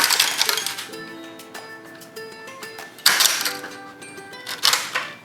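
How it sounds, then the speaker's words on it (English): A 3D-printed plastic part pops and cracks as it is pried off the printer bed, giving a close run of sharp clinks and snaps, with a bright burst around the middle and several brittle crackles after it. "One of my favorite parts about taking 3D prints off of the bed is the sound that it makes."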